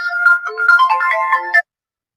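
A melodic phone ringtone plays clearly for about a second and a half, a bright run of electronic tones, then cuts off into silence.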